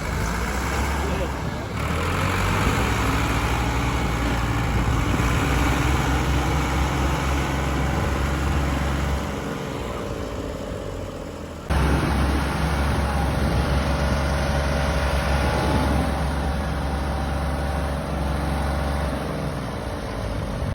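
A Ford tractor engine runs steadily with a deep, continuous low rumble, close and sustained, with a brief dip partway through; voices are faintly present around it.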